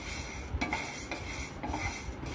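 Urad dal is stirred as it roasts in a pan, giving close, repeated scraping and rattling strokes of a spoon against metal over a faint dry crackle.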